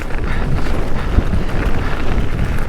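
Wind buffets the microphone during a fast mountain bike descent at Glenlivet, a loud, continuous rough rumble with gusty low thumps throughout.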